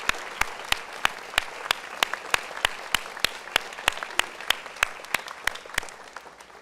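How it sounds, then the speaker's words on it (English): An audience at a school recognition day ceremony claps steadily for several seconds, sharp individual claps standing out in a fairly even rhythm that thins toward the end. "Class of 2027, please stand to give your parents and guardians and their teachers and staff a round of applause."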